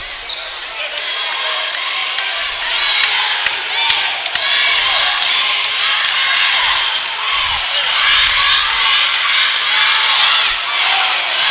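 A loud, steady indoor crowd noise at a boys' high school basketball game, Mays versus Tucker, with shouting and cheering from about 55 people in the stands, plus ball bounces, thuds and sneaker sounds throughout.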